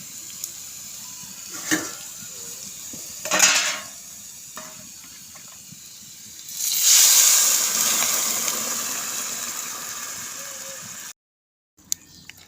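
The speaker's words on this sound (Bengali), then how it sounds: "এবার আমি গরম জল দিয়ে দেব" Hot water pours into a pot of frying spices and potatoes for a thin fish curry, a sustained rushing, sizzling stream lasting several seconds after a few clinks of utensils, then cut off abruptly.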